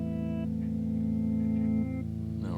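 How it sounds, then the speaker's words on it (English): Electric guitar through a Montreal Assembly Count to 5 pedal with a second reverse playback head added, sustained chord tones ringing with swelling, warped repeats. "let's add a second head in here with some reverse"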